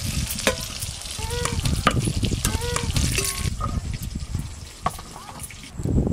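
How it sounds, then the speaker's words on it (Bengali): Cauliflower pieces fry in ghee in a pan, a busy crackling sizzle layered with spoon scrapes and clinks against the pan, with faint background sounds under it. "ঘি দিয়ে ফুলকপি ভাজা হচ্ছে।"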